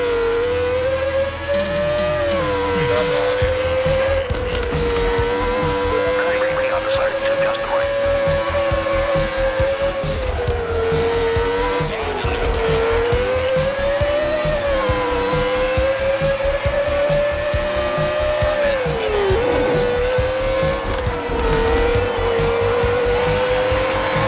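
Cars racing in an indie racing video game on Switch 2, a loud steady engine whine that rises and falls with gear shifts, with tire squeal and game music underneath throughout.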